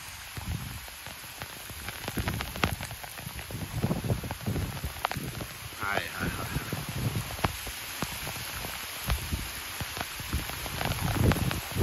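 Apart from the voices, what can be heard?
heavy rain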